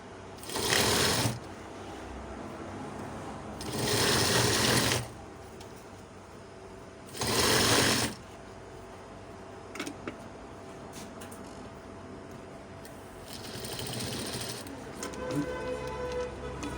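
An electric sewing machine stitches elastic onto a bomber jacket in three loud running bursts of a second or so, separated by quieter pauses filled with faint clicks and handling noise.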